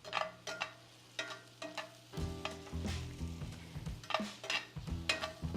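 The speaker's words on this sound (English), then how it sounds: "So our peppers and onions here are nice and sauteed" Peppers and onions sauté in a pan with a steady sizzle, broken by repeated scraping and clattering strokes of a spatula stirring them, close up with no voices.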